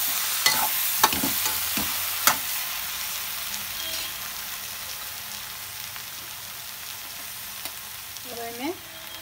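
Tomatoes go into a pan of roasting eggplant for bhata adauri, frying with a steady soft sizzle while a few sharp clatters of a spoon or spatula stir the pan.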